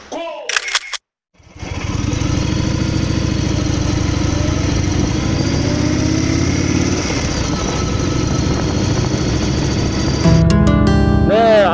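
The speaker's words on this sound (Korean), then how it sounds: "오늘은 제 바이크를 타고 시내 주행을 한번 해볼 생각입니다" A motorcycle engine runs steadily and close for about ten seconds after a brief silence, with a continuous rumbling drone and short bursts of other noise at the start and end.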